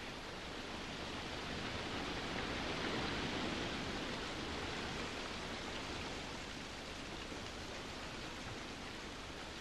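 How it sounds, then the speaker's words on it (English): Heavy tropical rain showers on Tarawa, a steady dense wash of rainfall that stays loud and even throughout with no voices. "The showers on Tarawa are as unpredictable as they are heavy."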